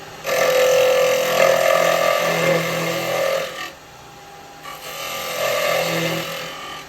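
A lathe tool cuts into spinning wood in two long passes separated by a short pause, giving a loud, close, scraping, rasping whine.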